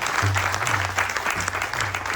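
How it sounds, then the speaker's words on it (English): An audience at a Ganesh Chaturthi celebration gives a steady round of applause, a continuous close wash of many hands clapping with faint voices underneath. "So give Hofstra Religion Department a big round of applause."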